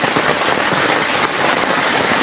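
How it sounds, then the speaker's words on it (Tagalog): Heavy rain pours down steadily, a dense continuous hiss of drops close by with no breaks and no voices. "Hanggang ngayon mga kababayan, umuulan pa rin."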